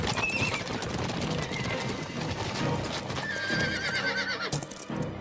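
A horse whinnies loudly more than once over a steady, close clip-clop of hooves, with the neighs rising above the continuous trotting rhythm.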